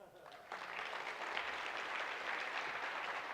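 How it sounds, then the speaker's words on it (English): Applause from a business audience swells in after a short pause and holds steady, a soft wash of many hands clapping at some distance. "You can clap for me."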